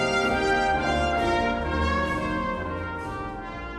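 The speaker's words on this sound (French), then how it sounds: "Ce que tu viens d'entendre, c'est An American in Paris," Orchestral excerpt of Gershwin's An American in Paris, a full ensemble playing sustained, harmonically rich lines at a steady loud level that eases slightly toward the end.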